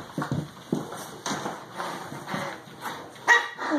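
Young puppies from one litter, kept in kennels at a house, bark and yip in quick, repeated bursts close by, with short whimpering sounds in between and no one speaking.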